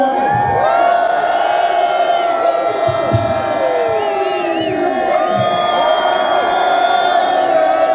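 Fans at a Las Vegas Raiders NFL draft party roar and cheer loudly and continuously, with shrill whoops, yells and sliding shouts rising above a thick wall of crowd noise.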